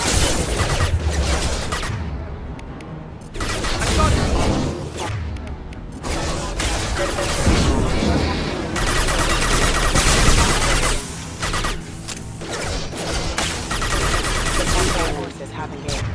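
Sustained gunfire and explosive bursts in a Mass Effect 2 video game battle, loud and dense throughout, layered with booming impacts and talk.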